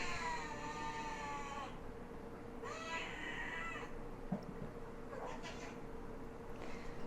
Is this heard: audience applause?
no